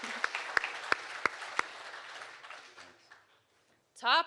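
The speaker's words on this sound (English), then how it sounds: "So huge round of applause for all of these honorable mentions." An audience at a hardware conference prize ceremony applauds honorable mentions with a few loud, sharp claps over a softer crowd clapping that fades out, followed by a short burst of sound at the end.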